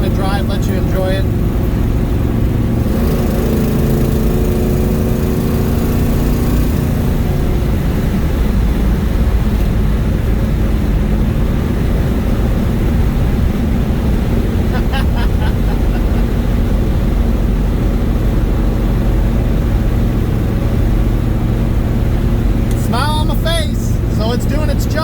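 A 1969 Pontiac GTO with an MSD Atomic setup rumbles loudly and continuously while driving, a deep steady engine roar with wind and road noise throughout the cabin and a few brief rattles.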